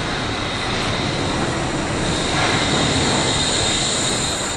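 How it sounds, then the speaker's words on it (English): The Wuppertal suspended monorail (Schwebebahn) passes with a loud, steady broadband roar of wheels and running gear, swelling slightly midway and holding without pause. "This is the Wuppertal Suspension Train."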